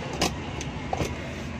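A Suzuki Cultus car engine idles steadily close by, a constant low hum with a few faint clicks on top, alone with no talking.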